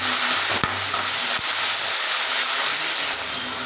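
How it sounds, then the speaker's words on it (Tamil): Tomatoes and onions sautéing in oil in a pan for Bombay duck dried-fish thokku, a steady close sizzle and frying hiss with a couple of brief stirring knocks. "இப்போ ஒரு மீடியம் சைஸில் ரெண்டு தக்காளி போட்டு அதே நல்லா வதக்கலாம்"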